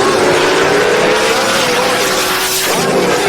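A small tire Camaro on Rowdy Radial tires making a drag racing pass, a loud, sustained engine roar that climbs in pitch steadily, close and dominant throughout, with a brief shift dip near the end.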